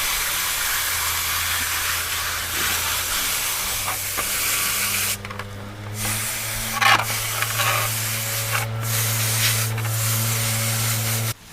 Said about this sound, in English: let's give it a rinse.